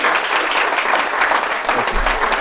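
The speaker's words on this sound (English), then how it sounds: "Round of applause." Audience at a book release event gives a brief round of applause, dense even clapping from a modest crowd lasting a couple of seconds.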